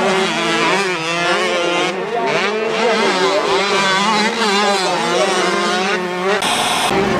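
125 open class race karts scream past on a track, their high engines revving and shifting in a continuous loud wail with overlapping pitches that rise and fall, ending in a brief burst of higher-pitched noise.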